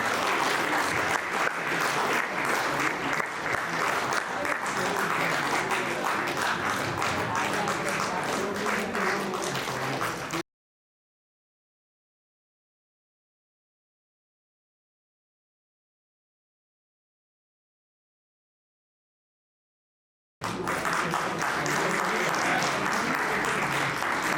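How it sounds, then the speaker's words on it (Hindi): An audience claps at a farewell event at CTI Ranchi, with sustained, dense applause for about ten seconds, a stretch of total silence, then the clapping resumes, with voices faintly present. "तालियां बढ़ती रहनी चाहिए।"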